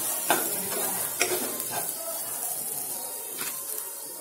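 Spice masala for aloo baingan fries and sizzles in a pan while being stirred, a steady close hiss broken by a few sharp scraping knocks of the spoon against the pan.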